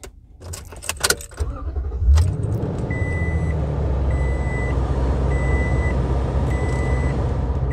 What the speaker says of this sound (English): I'm going to turn the truck on right now.